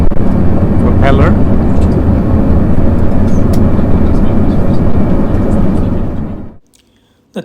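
An 18-seater propeller plane flying from Kathmandu to Lukla, its engines a steady, loud, dense drone heard from inside the cabin that holds unchanged for about six seconds before cutting away to near silence.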